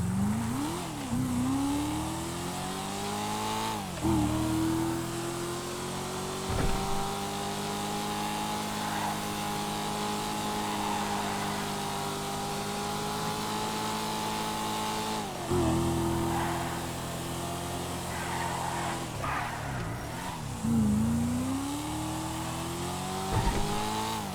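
Sports car engine in a racing video game, a two-door model, revving steadily with rising and falling pitch through gear changes, loud and continuous with brief shifts and tire noise, no talking.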